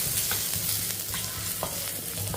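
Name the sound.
garlic sautéing in ghee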